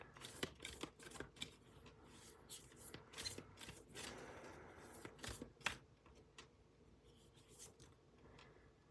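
Playing cards being shuffled and drawn for a card reading, a quiet run of soft riffling, rubbing and slapping strokes at close range with no voice.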